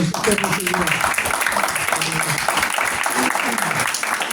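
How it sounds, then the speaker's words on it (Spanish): Congregation applauding during a Spanish-language church service, a steady dense wash of clapping throughout with voices mixed in underneath. "Denle un aplauso al Señor."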